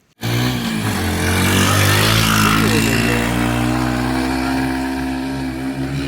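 A motorcycle climbing toward a hilltop, its engine starting abruptly and droning loudly and steadily close by, with the pitch rising and wavering under load as it revs up the slope.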